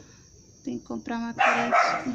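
A dog barks several times close by, sharp repeated barks in quick succession while someone talks over them indoors.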